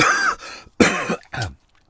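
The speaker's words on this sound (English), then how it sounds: "Not a COVID cough." Three separate coughs, close and loud, with short pauses between them and quiet afterward.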